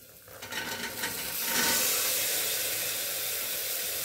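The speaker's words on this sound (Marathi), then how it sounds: "तर त्याच्यामध्ये मी चणे टाकून घेते." Chickpeas go into hot spiced oil in a pan and are stirred. A few scraping strokes lead into a loud, steady sizzle that fills the rest of the clip.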